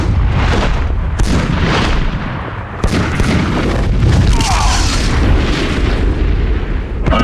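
Weapons fire in the Superman: Shadow of Apokolips video game, a loud, dense barrage of booming blasts and bursts repeating over a constant rumbling background, with no pauses.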